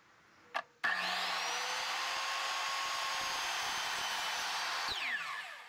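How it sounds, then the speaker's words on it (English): A miter saw slices through pallet wood boards against a stop block, starting with a short knock, then a loud, steady whining cut of about four seconds before the blade spins down. "I'm going to cut them off here at the miter saw."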